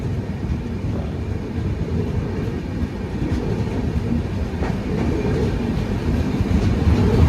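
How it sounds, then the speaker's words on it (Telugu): The Prasanthi Express rumbles steadily as it enters a tunnel, a low, heavy roar with faint rhythmic clatter, growing slightly louder toward the end. "మన ట్రైన్ టన్నెల్ లోపలికి వెళ్తుంది ఇప్పుడే."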